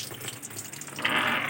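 Water runs nonstop into a faulty Polytron washing machine that won't shut off its inlet, a soft trickle swelling into a steady, louder gushing hiss in the final half second.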